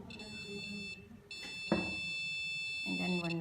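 A steady high-pitched electronic buzzer tone from an object-detecting sensor sounds, breaks off briefly, then resumes, while a person talks underneath.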